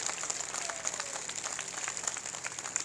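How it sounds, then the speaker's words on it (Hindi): An audience at a village gathering in Bhiwani district, Haryana, claps in a steady wash of applause. The clapping is somewhat distant and fairly faint, and no one speaks over it. "जोरदार ताली बजाकर उनका धन्यवाद करें, स्वागत करें।"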